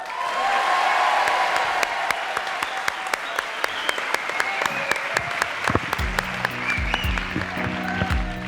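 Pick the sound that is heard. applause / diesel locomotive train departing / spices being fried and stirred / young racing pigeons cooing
applause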